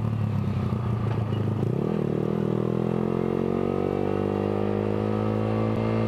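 A Yamaha R15 V3 150 cc sport motorcycle fitted with a Villan exhaust revs up while riding, its engine note climbing steadily into a loud, continuous drone with rising harmonics and no voices.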